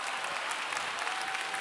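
Sustained applause from a large audience at a church youth service, steady dense clapping throughout without pause.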